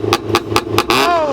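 A car with launch control and a backfire tune revs in four quick sharp bursts, loud and close, then holds a higher raspy drone to the end.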